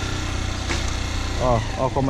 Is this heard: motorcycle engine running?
yes